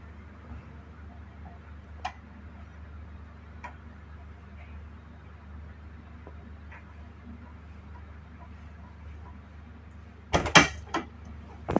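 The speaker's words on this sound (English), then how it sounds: "Now we will see the total closing speed of the door." A door eases slowly shut under a double-acting door closer, with sparse faint ticks over a quiet hum, then a loud cluster of knocks and a clunk as it finally closes.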